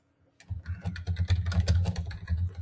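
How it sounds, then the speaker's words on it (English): Typing on a computer keyboard while entering book titles and author names: a fast, steady patter of close key clicks and thumps, alone without talk. "I'm just typing in the names of those, the books and the authors that we were recommending earlier"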